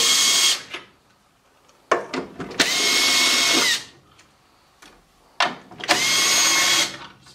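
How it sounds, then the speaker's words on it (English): A power driver spins in loud, separate bursts, each lasting about a second, with short clicks between them, while screws come out of a Bryant 350AAV furnace draft inducer. "we're going to start off with a quarter inch nut driver, and we're going to remove the four screws."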